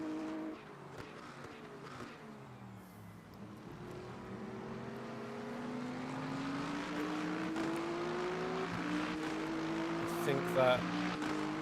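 Race car engine in the Le Mans Ultimate sim racing game, a steady rising drone climbing in pitch through the gears, continuous and fairly loud beneath commentators talking over it.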